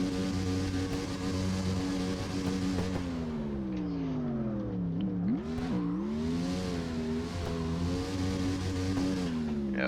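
Engine swapped into a truck in the CarX Drift racing game, revving hard and steadily throughout, its pitch dipping and climbing as it shifts and accelerates, loud and continuous with no voices.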